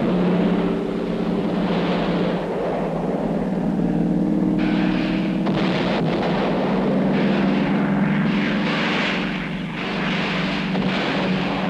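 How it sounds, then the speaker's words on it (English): A steady, heavy roar of Korean War fighter plane engines fills the scene, with shifting rumbling tones as planes pass overhead. "these planes are now ranging far and wide over North Korean territory"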